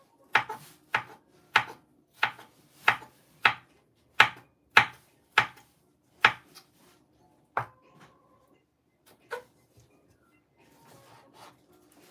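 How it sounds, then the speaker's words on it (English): Quick, evenly spaced chops of a large knife rocking on its handle through vegetables for a meatless chili, about a dozen crisp close cuts that slow and thin out toward the end. "the bigger knives are good to rock back and forth on like this"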